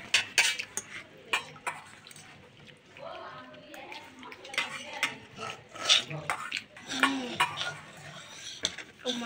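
Metal fork clinking and scraping on a plate while noodles are eaten at home, giving a run of sharp irregular close taps and scrapes, with voices talking over them.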